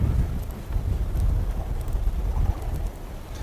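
Steady, heavy wind rumbles and buffets a microphone outdoors while fishing, producing continuous low roaring noise with no clear break.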